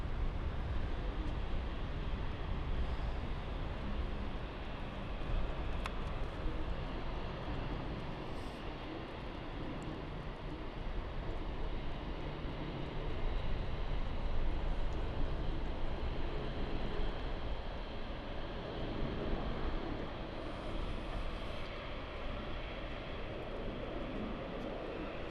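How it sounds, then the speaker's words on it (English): An Airbus A220 airliner at London City Airport gives off a steady, broad jet-engine roar that holds at an even level for the whole stretch, with no voices present. "Beautiful A220."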